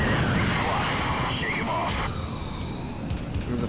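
A military jet flying by in the air-combat game Ace Combat 4: a loud, broad, continuous roar with a brief sweeping whine, running under talk.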